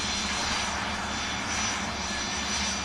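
Passenger plane arriving from Lanzarote at an airport, a loud, steady, continuous engine roar close by, with no voices.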